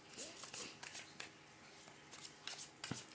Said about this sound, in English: I'll just shuffle them.